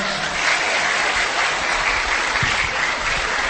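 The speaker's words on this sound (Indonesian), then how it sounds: "Kasih tepuk tangan dulu buat Farid." A steady wash of applause from a small crowd at an Islamic religious talk, continuous and fairly loud throughout with no pauses.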